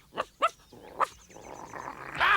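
Cartoon dog Bumpy Dog barks a few short, loud yaps in quick succession, followed by a softer rising whine and a louder excited yelp at the end, with no talking.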